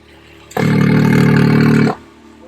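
A Can-Am X3 engine fitted with an RPM titanium 3-inch Shocker exhaust gives a single loud, deep rev lasting about a second and a half, rising sharply from a low idle and dropping back down.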